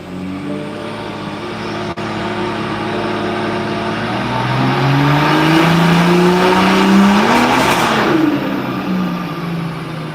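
A tuned BMW engine running on flex fuel revs loudly and continuously, its pitch sweeping upward and then dropping sharply as the driver downshifts. A brief sharp tick cuts in early on, and no voices are heard.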